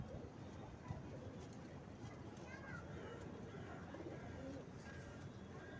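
Pigeons in a rooftop loft give soft, low cooing against a steady background murmur, faint and continuous, while someone talks over them.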